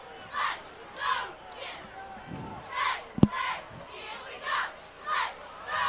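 A high school football crowd at a Peabody Tanners game against St John's Prep chants and cheers in regular swelling bursts. The sound is moderately distant and is broken by a single sharp bang partway through.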